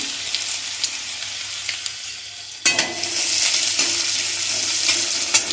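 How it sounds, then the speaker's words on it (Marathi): Finely chopped garlic, ginger and green chili frying in hot oil in a pan for momos filling, a steady hiss that jumps louder partway through as more goes in, with occasional spoon scrapes. "बारीक चिरून घेतलेला, बारीक कट करून घेतलेला लसूण, आलं बारीक कट करून घेतलेलं"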